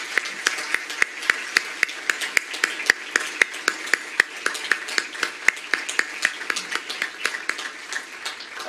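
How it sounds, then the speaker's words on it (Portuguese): The audience at a graduation ceremony claps: a thin scattering of hands with distinct, fairly regular claps, some sharp and close, over a faint room murmur. "Vamos dar uma salva de palmas para eles, por favor."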